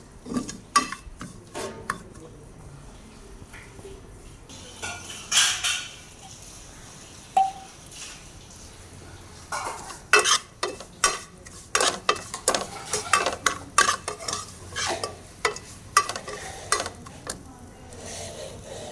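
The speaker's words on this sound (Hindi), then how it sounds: "तो इसे हम 1 मिनट तक अच्छे से रोस्ट करेंगे।" Vermicelli being stirred and roasted in desi ghee in a pan for milk sweet vermicelli, with a spoon scraping and clinking in irregular strokes over a soft sizzle, busier in the second half.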